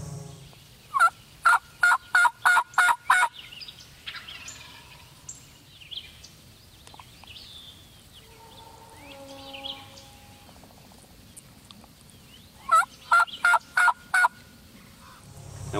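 A wild turkey gobbles in two loud rapid bursts, one near the start and one near the end, with quieter birdsong and soft ambience between, on public hunting land.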